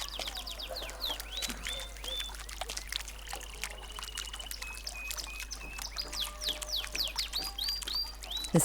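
Birds calling overhead, repeated chirps and whistled calls throughout over a faint trickling background, moderately close and steady with no speech.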